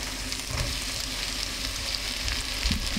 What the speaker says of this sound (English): I'm going to add the onions